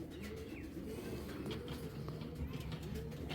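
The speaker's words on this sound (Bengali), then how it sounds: "এটা হলো রেসারের সর্বোচ্চ সাইজের কবুতর, একদম কিং সাইজের রেসার" Large racing pigeons of a foreign bloodline coo softly in a loft, a low, faint, repeated murmur under steady background noise.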